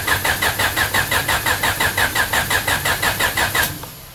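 A car engine fitted with an aftermarket ignition trigger kit cranks loudly with a fast, even starter rhythm for several seconds, then catches and starts at the end, with no talking.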